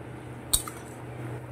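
A single sharp metallic clink sounds as fried elephant foot yam goes into boiling curry in a pot, followed by a faint splash over a low steady background.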